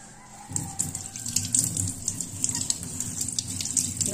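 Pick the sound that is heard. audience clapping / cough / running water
running water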